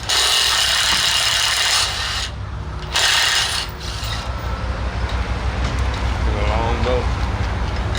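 A 1/2 inch drive wrench works to remove a roller from a cable mast, giving continuous close mechanical grinding and ratcheting noise with a few brief breaks.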